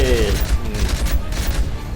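Dense gunfire in the Call of Duty Modern Warfare 3 video game, a continuous loud barrage of rapid shots with rumbling explosions underneath, filling the whole moment.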